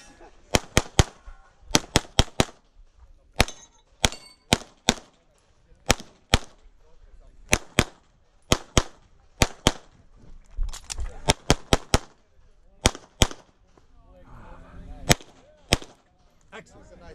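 Sharp, loud pistol shots from a CZ Custom SP-01 at an IPSC competition stage, fired in rapid pairs and short strings with brief gaps, with range commands and voices in the background.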